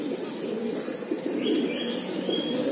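A pigeon coos softly in a loft, its low, murmuring calls running steadily under faint chirps and light rustling, with no voices nearby.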